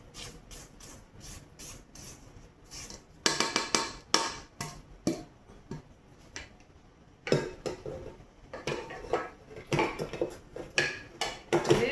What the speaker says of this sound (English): So let's get our bowl scraped down again.